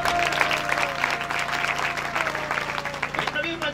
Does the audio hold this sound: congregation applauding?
yes